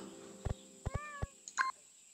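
A cat in the game Garden Paws, giving several short, close meows in quick succession, the last one a higher, brighter mew, alone without talk.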